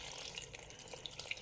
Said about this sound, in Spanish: Le vamos a agregar agua fría.